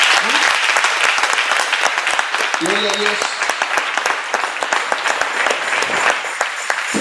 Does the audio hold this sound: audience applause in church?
yes